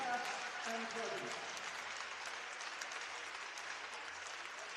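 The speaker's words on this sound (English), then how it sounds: "Ladies and gentlemen, please join me in another round of applause for our men and women warfighters, past and present." Steady applause from the crowd at an amateur hockey game in Fort Wayne, saluting military service members past and present, a dense continuous wash of clapping held at an even level, with a faint voice murmuring early on.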